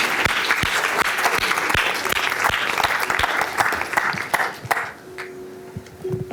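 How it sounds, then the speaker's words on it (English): A seated audience bursts into applause at a mental health talk, crisp close claps forming a dense steady roar that thins out after about five seconds into a few scattered claps. "Let's clap that up."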